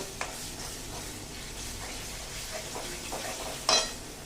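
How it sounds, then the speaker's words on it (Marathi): Ginger, chili and garlic paste frying in a pan for Punjabi chole masala, a quiet steady sizzle with occasional stirring scrapes and one sharp utensil clink near the end. "आता पहिल्यांदा आलं, मिरची आणि लसूण याची पेस्ट आपण याच्यामध्ये टाकूया। हे छान मस्तपैकी परतून घ्यायचं"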